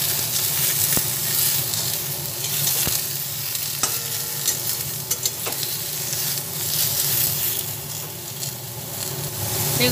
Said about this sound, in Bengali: বেগুনটা কিছুক্ষণ ভাজা হচ্ছে